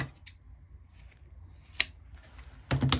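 Scissors snip paper strips in half for a Valentine heart wreath, two or three crisp close cuts with a quiet pause between them and a louder cluster near the end.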